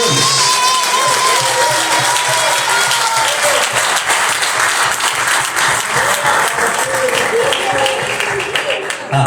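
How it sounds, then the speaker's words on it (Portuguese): A church congregation applauds loudly and steadily throughout, dense sustained clapping with cheering voices and whoops mixed in, filling the room from start to finish. "Aquele que crê, aplauda ao Rei dos Reis e o Senhor dos Senhores."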